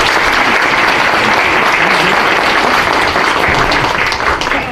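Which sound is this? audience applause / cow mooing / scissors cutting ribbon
audience applause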